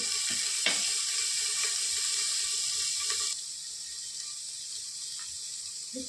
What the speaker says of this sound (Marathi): कढाईमध्ये पण उकळते